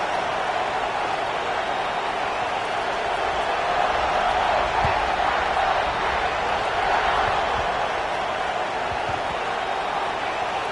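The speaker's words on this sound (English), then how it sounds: "this crowd is feeling themselves after that last drive" A stadium crowd in the College Football 26 video game gives a steady, dense roar that swells slightly midway and stays even throughout, filling the background at a moderate level with no clear talk.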